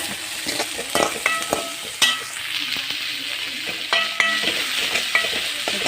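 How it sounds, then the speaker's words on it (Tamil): Chopped tomato sautés in a pan for a beetroot and egg stir-fry, a soft steady sizzle broken by repeated scraping and clinking as a spoon stirs it against the metal. "ஒரு தக்காளி போட்டு நல்லா கட் பண்ணி போட்டு நல்லா வதக்கிக்கோங்க"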